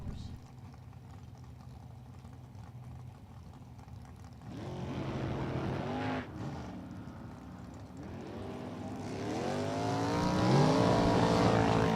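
Top alcohol dragsters and top alcohol funny cars at a drag strip, their engines building from a low rumble into loud, rising revving bursts around the halfway point and again near the end, with an announcer's voice talking throughout.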